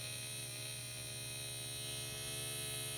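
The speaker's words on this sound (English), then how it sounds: "You probably hear noise from the speaker as the motor spins and the red LED comes on." A Snap Circuits toy speaker gives off a steady electrical buzz from a spinning motor, a constant hum with bright tonal layers that stays even and unbroken throughout, without any voices.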